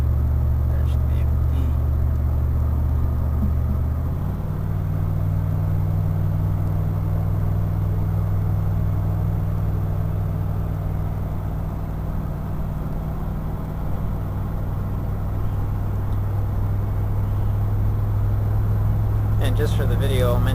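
A vehicle engine hums steadily while cruising at about 60, a low continuous drone that shifts pitch slightly once early on, with people talking over it.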